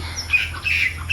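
Birds calling on a sunny morning outdoors, short squawking calls repeating over a low steady background hum, moderately close, no talk.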